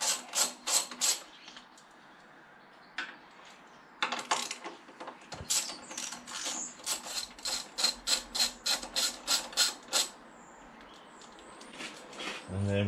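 Screws being removed from the fuel tank of a 1994 Triumph Sprint 900, heard as bursts of rapid ratcheting clicks from a nearby tool, with a long fast run near the end.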